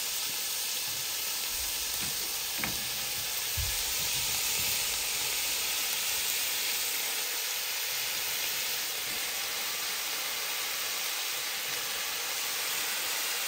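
A salmon head sizzles in a pan with sautéed tomato over medium heat, a steady close hiss that goes on unbroken with no talk.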